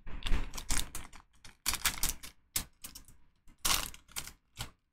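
A Pokemon card booster pack from an Alolan Executor box is torn open with repeated crisp ripping and crinkling bursts of foil wrapper, close and fairly loud, coming in irregular clusters with short gaps.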